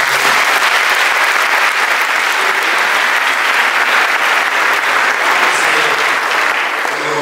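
Dense, sustained applause from an audience at a handover and farewell party fills the whole stretch at close range, steady and loud with no break.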